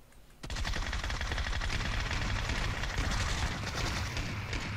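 Gunfire in PUBG, a sudden onset into sustained dense rapid shooting that continues loudly for several seconds, close and without speech.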